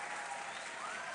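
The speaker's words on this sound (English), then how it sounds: "Let's clap for Mr. and Mrs. Debrah for giving us this esteemed professor" Sustained audience applause at a professorial inaugural lecture, a steady wash of many hands clapping together, fairly distant and even throughout.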